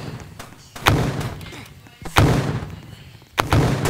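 Heavy booming shotgun blasts ring out in a video game, three loud shots spaced about a second apart, each followed by a decaying rumble.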